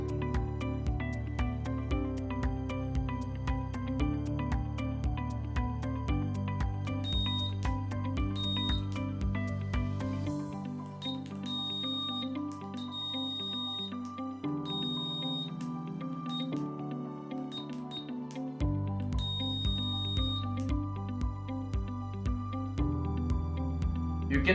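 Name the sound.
Morse code buzzer beeping, from a DIY STEM kit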